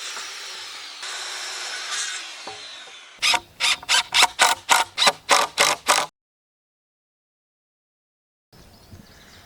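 Wood being cut for the floor frame of a chicken coop, a run of about nine quick, even saw strokes, loud and close, after some scuffling handling noise and followed by a stretch of silence.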